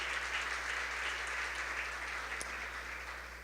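A church congregation applauding during a women's service, a dense, even wash of clapping that holds steady throughout with one sharper knock near the end.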